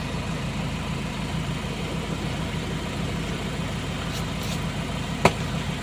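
A Ford Raptor's engine idles with a steady low rumble, even and continuous, with a few faint clicks and one brief sharp tap near the end.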